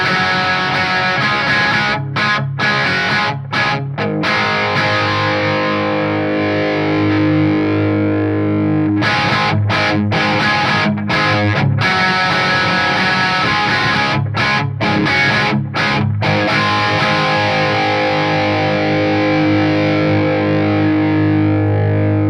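Distorted electric guitar, a Les Paul-style instrument played through the unclean channel of a modified Tone Priest SLO amp with low gain, rings loud and continuous with sustained chords and brief choppy stops.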